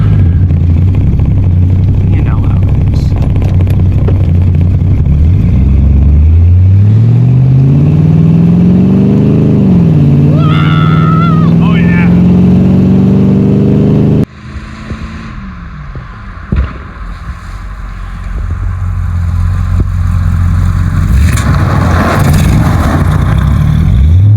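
A 1984 Corvette engine revs hard under a sudden burst of throttle, pitch climbing steeply then dropping and settling into a steady drone, loud and close, with a muffled passage of lower engine noise afterward.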